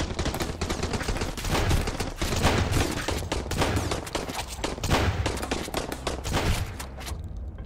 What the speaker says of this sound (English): Man, look at the range of this shotgun